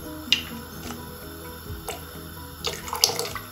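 White vinegar is poured into water in a cooking pot for a cauliflower pickle, giving a few short, close splashes and trickles over a quiet kitchen background.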